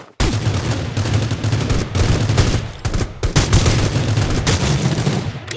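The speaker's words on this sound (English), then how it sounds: "Did you see how many times I shot that guy?" Dense, continuous video-game gunfire from Rules of Survival: rapid overlapping shots and bursts roll on for several seconds with barely a pause, loud and close, with no talk over it.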